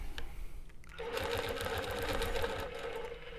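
A longarm quilting machine stitches along a ruler, starting up after a quiet second and then running as a steady, close mechanical hum with rapid needle ticking.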